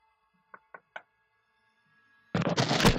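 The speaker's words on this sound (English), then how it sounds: "he knocked on his friend's door" Three crisp knocks on a friend's door, evenly spaced and alone in a quiet scene, followed a moment later by a loud burst of broadband noise.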